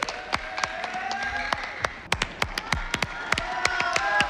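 Scattered applause for a dance performance, with individual claps ringing out sharply and irregularly from a small audience, growing slightly denser toward the end.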